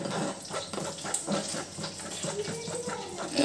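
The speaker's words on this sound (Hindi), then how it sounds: "जिस कटोरी में पेस्ट था, उस कटोरी को धोकर मैं पानी भी ले लूँगी थोड़ा" Water splashes and runs while a small bowl that held a butter chicken paste is rinsed in a kitchen, a steady close sloshing texture with no talking.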